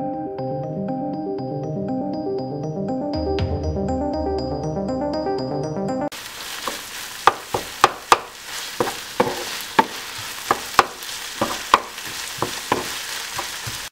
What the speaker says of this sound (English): We let cook for 5-10 minutes, depend on your fire setting, until the onion and bacon are well cooked